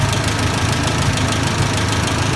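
A Massey Ferguson 65 tractor engine with a suspected electrical or fuel fault runs loud and close, a steady, rough, knocking idle with no pauses.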